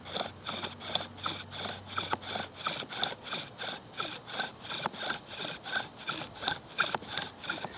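A bow drill spindle rubs back and forth in a wooden fireboard to start a fire, a fast rhythmic rasping stroke repeated about twice a second, close and steady.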